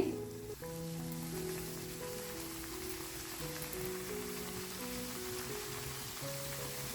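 Wheat flour and onion snack dough shallow frying in a little hot oil, a steady soft sizzle and crackle that runs evenly throughout, close by with no talking.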